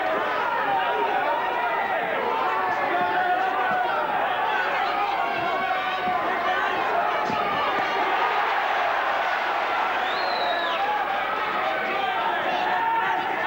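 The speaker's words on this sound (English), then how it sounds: "Schwer's corner are clapping and cheering every punch he lands." Boxing crowd at a Billy Schwer versus Paul Burke fight, a dense continuous roar of chatter and cheering with clapping from Schwer's corner woven through, steady and loud throughout.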